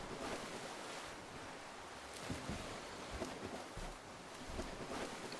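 Water in the Monster of the Deep video game splashes and sloshes continuously, a soft, steady wash with faint surging swells, fairly quiet and alone.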